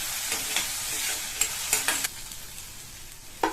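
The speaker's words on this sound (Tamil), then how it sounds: "கூடவே கொஞ்சம் கருவேப்பிலையும் சேர்த்துட்டு இந்த வெங்காயத்தை நல்லா வதக்கிக்கணும்." Onions sautéing in a pan with dried chilies and curry leaves for a kuzhambu sizzle steadily while a spatula scrapes and clinks in irregular bursts, close and fairly clear, without speech.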